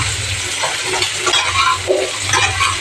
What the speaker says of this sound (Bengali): একটু বাজি করে নেবো কচুর লতিটা চিংড়ির সাথে